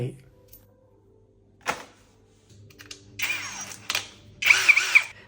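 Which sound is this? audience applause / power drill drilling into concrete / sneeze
power drill drilling into concrete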